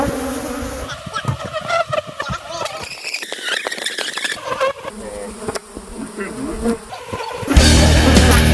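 Killer bees buzz in a busy swarm close by during a hive removal, a dense droning hum with shifting pitches, broken by a louder burst near the end.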